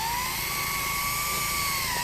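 A drill bit whines steadily and loudly at high speed while it angles a hole into a wooden wire stretcher, alone and unbroken.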